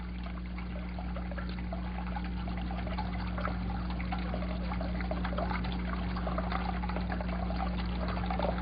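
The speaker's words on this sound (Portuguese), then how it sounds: "Quando a água é liberada aos poucos do recipiente, este mecanismo permite que a resistência se movimente devagar para cima." Water trickles slowly and steadily out of a container, a continuous soft dribble over a constant low hum, with no voices.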